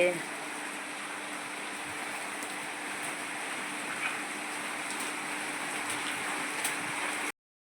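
Heavy rain pours down in a steady, unbroken hiss that stays even from start to finish, with no voices.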